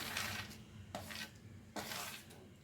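Ragi flour mixture with roasted cashews stirred in a metal vessel, giving soft scraping and rubbing strokes with a couple of sharper clinks, quiet and close.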